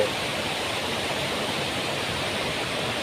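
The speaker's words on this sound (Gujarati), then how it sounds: "ડુંગર ઉપરથી પડતું પાણીનો અવાજ કેવો સુંદર" Steady, full roar of a waterfall dropping from a hill after heavy rain in Ratanmahal wildlife sanctuary, a dense rushing wash that stays constant and loud throughout with no voices.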